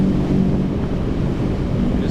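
A boat punches into waves and wind at sea, buffeting wind on the microphone over a loud, continuous low rushing of water, close and steady with no pauses.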